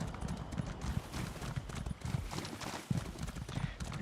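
Horse hooves clip-clop at a steady walking pace across swampy terrain in a fantasy video game, fairly close and continuous, with no voices over them.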